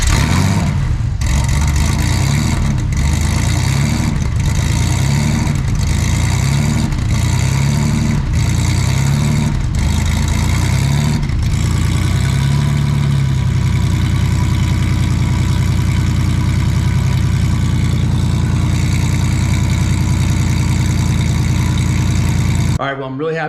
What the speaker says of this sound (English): When I started the car, you guys heard that it was doing some idle hunting